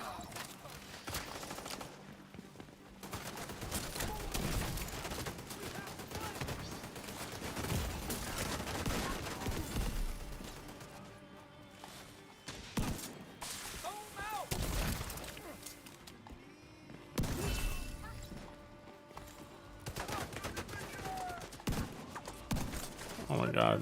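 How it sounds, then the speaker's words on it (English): Turret gunfire from The Division 2 pounds the player in dense, continuous bursts of rapid shots and impacts, loud and close, with brief lulls between volleys. "Now I'm getting wailed on by this turret."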